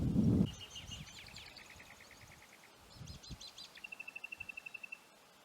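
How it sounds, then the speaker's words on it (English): Wild birds call in dry bush on Yalata land near the Old Eyre Highway on the Nullarbor, South Australia: faint, scattered chirps and whistles, ending in a quick, evenly spaced run of repeated notes, with low rumbles beneath. "Lots of bird life around here."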